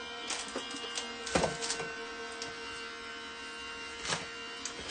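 An Elizabeth Craft Design die-cutting machine running warped plates through, giving a faint steady motor hum with a few soft clicks and rattles.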